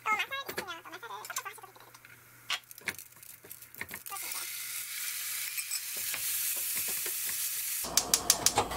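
Cooking oil sizzles steadily in a pan while a rice ball filling of fish cake or crab stick is fried. The hiss follows earlier clattering and stirring, and sharp utensil clicks come at the end.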